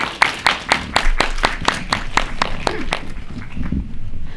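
Audience at a film festival Q&A welcoming the director and actors of a film, clapping in an even, regular rhythm of about a dozen sharp beats that gradually soften and fade out.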